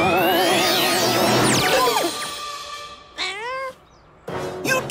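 Cartoonish cat meows and warbling effects from the Bubble Guppies cartoon, a busy burst of sound followed by two short separate meow-like calls.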